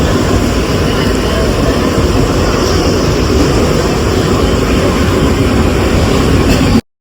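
A Mumbai local train rolls into a station with a loud, steady rumble and roar that fills the whole stretch before cutting off abruptly.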